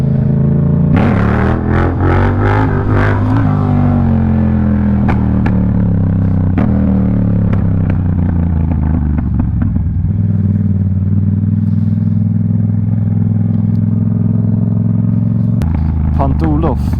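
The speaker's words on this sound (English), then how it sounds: "this video is going to be about power wheelies, or me doing power wheelies" A Yamaha MT-07 motorcycle roars loudly through repeated throttle blips and sustained acceleration while lifting into power wheelies, the engine note rising and falling with mechanical clatter, heard close up throughout.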